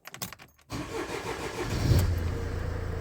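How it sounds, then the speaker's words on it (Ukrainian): The engine of a Mercedes Vito 639 van with a slightly weak battery cranks with a few quick pulses, pauses briefly, then catches and settles into a steady, close idle. "Заводимо машину, перевіряємо зарядку"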